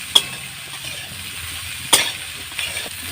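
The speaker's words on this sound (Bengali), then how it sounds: "সমস্ত সবজি একসঙ্গে ভেজে নেব।" Vegetables fry in a pan for Bengali-style khichuri, giving a soft steady sizzle with a few sharp clinks and scrapes of a spoon stirring against the metal.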